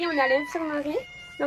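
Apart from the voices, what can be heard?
cat meowing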